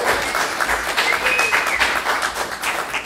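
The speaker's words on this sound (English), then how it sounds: "Everybody, please clap your hands for Mr." An audience applauds for a live solo performer at a small music venue in Hillsborough, North Carolina, a steady roomful of clapping heard close throughout, with a brief whistle-like tone above it.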